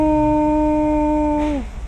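A person vocally mimics the droning whine of a worn axle gear in a Toyota Unser, producing one steady held hum for about a second and a half before it slides downward and stops.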